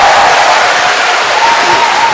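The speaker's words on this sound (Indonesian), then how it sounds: "kita tepuk tangan dulu, kasih semangat." Studio audience at an Indonesian televised talk show breaking into applause, a dense, loud, steady wash of clapping and crowd noise filling the whole moment.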